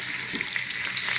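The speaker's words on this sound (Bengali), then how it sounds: "এবার আমি আলুটাকে ভাজতে দেবো" Potato pieces frying in hot oil with turmeric and salt, a bright continuous sizzle with small crackles and a soft stirring scrape.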